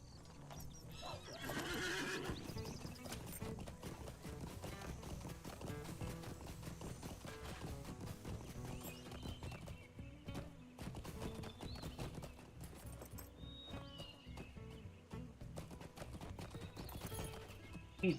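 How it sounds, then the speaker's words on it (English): Horse hooves clip-clop steadily in the online game Lord of the Rings Online, with whinnies over a continuous backdrop of game music and ambient sound. "How bobby weeby this is if I get on my horse."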